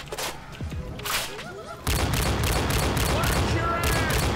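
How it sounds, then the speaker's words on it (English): Rapid bursts of gunfire in Left 4 Dead 2, layered shots and automatic fire that grow denser and louder halfway through, with brief game voices in between. "I sniped Hitler"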